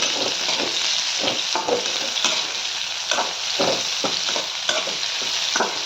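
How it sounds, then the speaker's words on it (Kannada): Bitter gourd fries in oil with a steady, loud sizzle, broken by repeated scraping stir strokes that come every second or so, with no voices over it. "ಚಂದ ಎಣ್ಣೆಗೆ ಫ್ರೈ ಮಾಡಿ ಹಾಗಲಕಾಯಿ"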